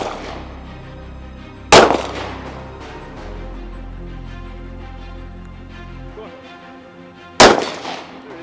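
Two sharp gunshots, about six seconds apart, each with a bright metallic clang off a steel target at training. A low steady hum runs underneath between the shots.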